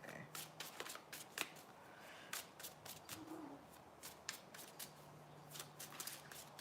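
Tarot cards being shuffled and drawn for a love reading, a steady patter of soft papery flicks and riffles, close but quiet over faint room hiss, with no talk.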